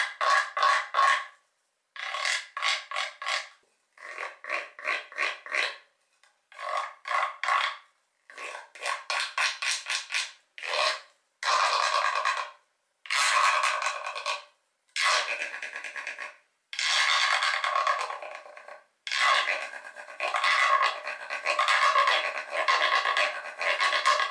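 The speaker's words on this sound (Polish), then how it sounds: "Posłuchajmy więc, jakie można uzyskać dźwięki z naszej tarki." A washboard-style rasp played as an instrument is scraped in short rhythmic bursts separated by brief pauses, producing a bright, ratcheting scrape with varying pressure and length, close and alone.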